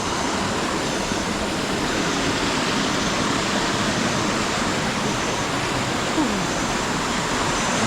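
A river crossing a forest trail in Colombia rushes steadily as a dense, loud, unbroken roar of flowing water, close and alone for the whole stretch.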